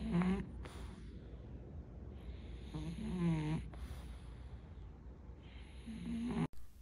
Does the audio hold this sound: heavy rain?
no